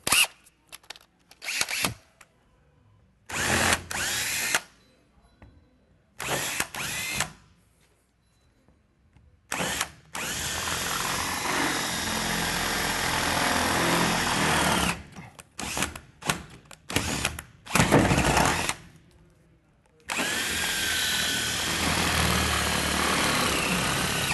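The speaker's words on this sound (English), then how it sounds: "So, there's our 1/2-inch drill bit." A power drill with a 1/2-inch bit bores holes, whining in several short bursts, then two longer sustained runs, with brief pauses between them; loud and close, no talking.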